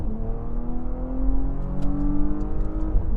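A Porsche Panamera 4 E-Hybrid with a V6 accelerating hard in Sport Plus mode to overtake, engine note rising steadily and loud from inside the car.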